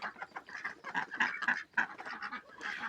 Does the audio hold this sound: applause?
no